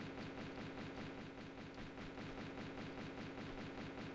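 Steady, rapid gunfire rattles on without a break in Tomb Raider 2. It is a faint, distant, even stream of repeated shots.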